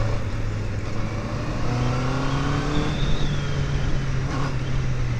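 A Honda CB650R motorcycle engine revs on the throttle, pitch climbing and falling in smooth sweeps over a steady droning hum, heard from a moderate distance.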